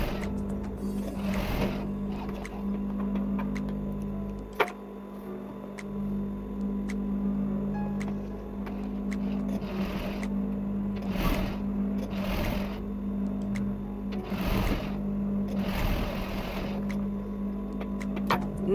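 A sewing machine runs in a steady mechanical hum while understitching the facing of a cowl neckline, with a constant low whir and periodic soft bursts of stitching close by.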